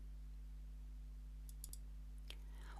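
Mouse clicks on a Create Invoice button in an invoicing program, a quiet burst of small clicks followed by a single click later on, over a faint steady electrical hum.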